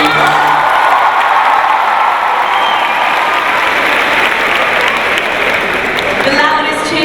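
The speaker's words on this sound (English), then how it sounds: "The loudest cheer we've got so far" An audience at a student session with Steve Harvey at the Sharjah International Book Fair 2019 cheers and applauds loudly, a dense, sustained roar of clapping and whoops that continues steadily throughout.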